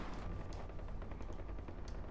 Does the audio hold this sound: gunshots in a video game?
yes